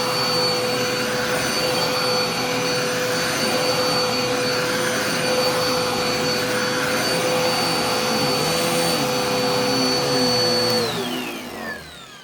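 Upright vacuum cleaner running with a clogged, strained tone, a loud steady whine and roar that holds for about eleven seconds, then winds down as the motor is switched off, with no talking.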